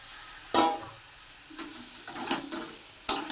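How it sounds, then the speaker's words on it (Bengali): Potatoes and soybean chunks fry with spices in a pan: a few distinct spatula scrapes and clanks over a faint, quiet sizzle, with no voices. "আলুটা মশলা দিয়ে কষাচ্ছি আমি সোয়াবিনগুলো দিয়ে দেবো"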